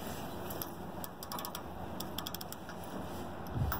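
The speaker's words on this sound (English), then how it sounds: "now I'm going to kind of do this tightening over again" A ratchet on a mobile home tie-down strap being tightened, with quick runs of sharp mechanical clicks in short bursts over a steady background hum, fairly faint and without speech.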